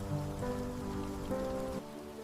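Rain falls during a storm as a steady, dense patter on a surface, continuous and fairly close with a low rumbling undertone throughout.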